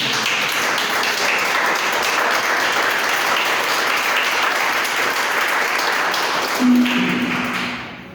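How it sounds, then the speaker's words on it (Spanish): A church congregation claps steadily in sustained applause that fades out at the end, with a short tonal note sounding briefly near the close. "Denle ese aplauso al Rey"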